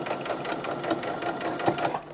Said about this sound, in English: do a couple of stitches backwards, just to make it nice and secure, and then sew along